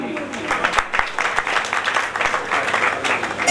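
A crowd at the 2017 Baba Murad Shah Ji fair gives loud, sustained applause for a singer, a dense, steady wash of clapping lasting the full clip.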